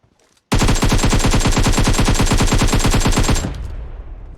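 Gunfire in PUBG Mobile, a loud sustained automatic burst of evenly spaced rapid shots lasting about three seconds after a brief silence, then ringing down into a fading tail.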